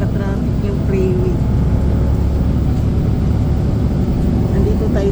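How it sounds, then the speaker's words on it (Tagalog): Freeway traffic rumbles from inside a moving bus, a loud continuous low engine and road drone with a voice talking over it. "Dito po ipapakita ko po yun po kung gaano po ka-traffic yung freeway"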